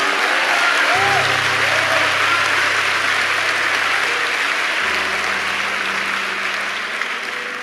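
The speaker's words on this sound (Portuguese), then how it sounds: "Você pode aplaudir a graça de Jesus" Steady applause from a large church congregation runs throughout, dense and even, with a low sustained tone underneath.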